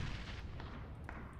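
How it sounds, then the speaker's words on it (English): A frag grenade goes off in a competitive video game match, a single short, heavy boom that trails off over about a second. "Going with a frag grenade."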